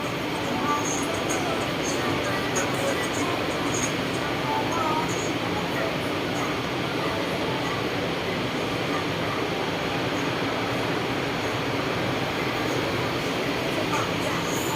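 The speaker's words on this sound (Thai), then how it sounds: "ตอนนี้รถไฟฟ้าสายสีแดงก็ เข้าเทียบชันชลาแล้วนะฮะขบวนที่จะไปลังสิตนะครับ" Bangkok's Red Line electric commuter train pulls into a platform bound for Rangsit, a steady loud rumble and rolling hum filling the whole stretch with faint high squeal and chatter of passengers mixed in.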